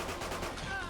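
Dense, rapid automatic gunfire from the Mobster Gat Pack gun in Fallout 4 runs continuously through a short burst. The shots are fast and close, with no gaps between them.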